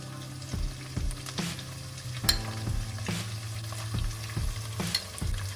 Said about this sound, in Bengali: এক চামচ মতো আদা রসুন বাটা দিয়ে দেবো ভালো করে মিক্স করে নিচ্ছি